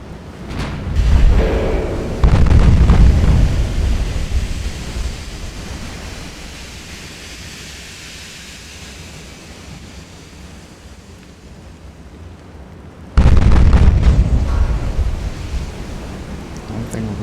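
Naval guns fire a full broadside in the naval combat game Ultimate Admiral: Dreadnoughts, with two heavy roaring blasts several seconds apart and a long, low rumbling decay between them.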